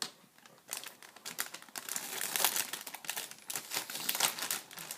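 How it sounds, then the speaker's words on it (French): A self-adhesive strip tears and crinkles off a cardboard model kit box for an ICM 1/35 Panhard 178 AMD-35, a close, papery ripping in uneven bursts over several seconds. "C'est juste une bande autocollante."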